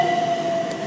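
A Class 377 electric train at Battersea Park station gives off a steady, loud mechanical rumble with a constant high electric whine running throughout.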